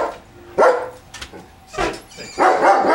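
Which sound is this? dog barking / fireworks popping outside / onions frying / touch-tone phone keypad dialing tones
dog barking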